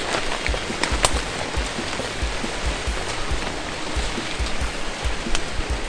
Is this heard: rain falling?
yes